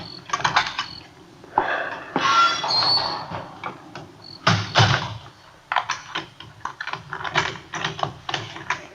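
A squeaking front door opening in a 1951 Dragnet radio drama, drawn-out creaks and clicks at close range, broken by brief pauses, with no talking.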